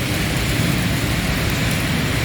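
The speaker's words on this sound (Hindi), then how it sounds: "तो रास्ते में बारिश माशाल्लाह बहुत मिल गई" Heavy rain in Karachi during a ride is a dense, loud, steady broadband wash of rain with low rumble, close and continuous throughout, with no voices.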